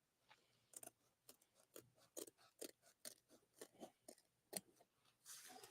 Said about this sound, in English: I can really hear the scissors cutting through today.